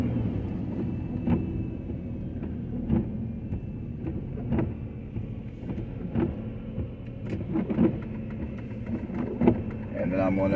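Car driving down a city street in Cleveland, Ohio: a continuous low engine and road rumble inside the vehicle, with occasional clicks and thumps, and a person talking over it.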